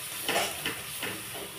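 Spices with chilli and turmeric powder are sautéed in a pan for lau kopta curry, a soft continuous sizzle broken by three or four scraping stirs over under two seconds, with no talk.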